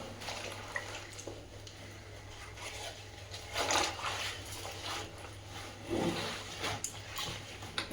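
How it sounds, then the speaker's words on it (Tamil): Soft, quiet sloshing and rubbing of a silk saree by hand in shampoo water, with gentle swells of splashing. "இந்த உதிரி பகுதியை இந்த ஷாம்பு போட்டிருக்க தண்ணியில் ஒரு டென் மினிட்ஸ் நம்ம கைலையே ரைஸ் பண்ணிக்கிறோம்"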